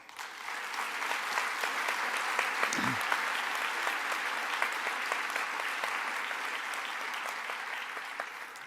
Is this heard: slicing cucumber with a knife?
no